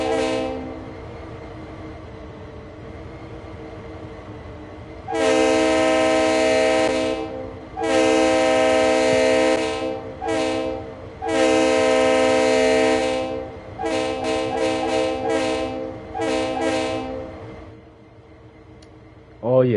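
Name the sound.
RS3L locomotive engine and horn in Train Sim World 3 video game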